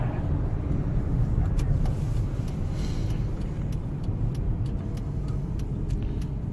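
A car rolls along a country road a few minutes outside Burlington, heard from inside the cabin as a steady, loud low rumble of tires and engine with faint ticking above it and no pauses.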